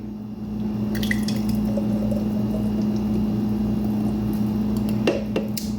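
A thick smoothie is poured out of a blender into a jar, a steady, wet glugging squish that runs the whole time at moderate loudness, with a couple of small knocks near the end.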